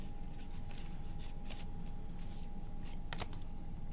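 Tarot cards shuffled by hand in a series of soft papery riffling bursts over a steady background hum, with no voices.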